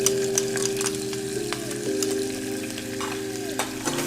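Garlic and pimentos frying in butter in a pan while being stirred, a steady close sizzle with a few scraping stir strokes and a continuous tonal hum running underneath throughout.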